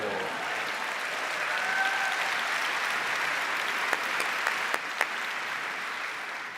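Audience applause in a large conference hall at a live tech demo event, steady broadband clapping sustained throughout, with a few sharper individual claps standing out near the end.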